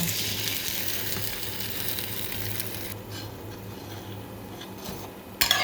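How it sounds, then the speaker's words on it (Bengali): A paratha fries in a pan with a steady hissing sizzle that softens partway through, and a sharp clatter of the pan comes near the end. "পরোটা ভাজবো দিয়ে দিচ্ছি পরোটা"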